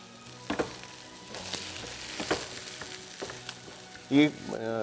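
Chopped onions sizzle steadily in hot oil in a pan with cumin seeds, a continuous close frying hiss broken by a few clatters and a louder scrape near the end.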